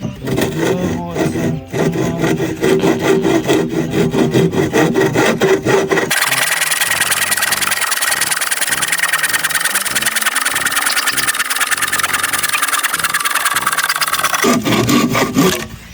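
A handsaw cuts through wood while building a small house, with steady back-and-forth strokes that are loud and close, followed by a sustained high whining tone for several seconds before the sawing returns.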